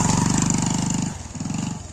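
A motorcycle engine runs close by in the Sundarban area, its steady throbbing putter dipping briefly near the middle before picking up again, loud and without speech.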